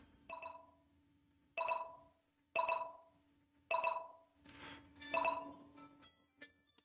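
A telephone rings in five evenly spaced bursts of bright, electronic trilling, faint and somewhat distant in an otherwise quiet room.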